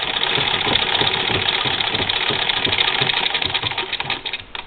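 A sewing machine stitches through four layers of a sweater quilt's heavy seam, a steady close mechanical whir with rapid even needle clatter running continuously throughout.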